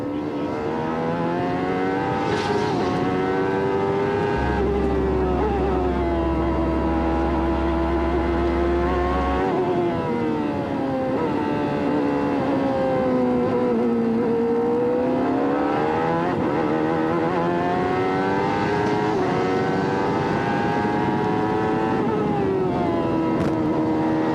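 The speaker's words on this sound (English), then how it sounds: "we take a look at the Ford Electronics telemetry coming off Robbie Gordon's car" Onboard sound of a 1994 IndyCar race car at Mid-Ohio, its engine screaming continuously as it climbs and falls through gear changes and corners, loud and close throughout with no voices.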